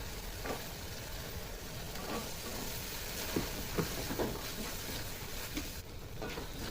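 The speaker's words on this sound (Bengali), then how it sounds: "মশলাটা প্রায় কষানো হয়ে গেছে এখন আলুগুলো দিয়ে দেবো কেটে রাখা" Cut potatoes sautéing in a spice masala for homemade pasta, giving a soft, continuous sizzle with light patter and occasional stirring clicks, close but fairly quiet, with no talk.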